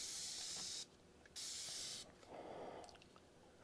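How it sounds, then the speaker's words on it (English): A spray bottle of isopropyl alcohol gives two long, close hissing bursts, each under a second, followed by a softer rustle and a faint trailing spritz. "spray that down with isopropyl."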